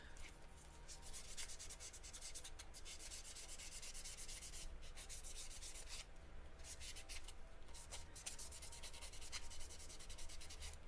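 A sanding sponge rubs steadily over a carved Blythe doll face, giving a faint, close, continuous scratchy swish with brief pauses between strokes.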